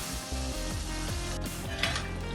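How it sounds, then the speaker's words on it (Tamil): Sweet somas pastry deep-frying in hot oil gives off a steady, close, dense sizzle that runs unbroken throughout, with no voices over it. "இப்போ இதை நல்லா பொன்னிறமாக ஆகிற அளவுக்கு நம்ம வறுத்துக்கலாம்"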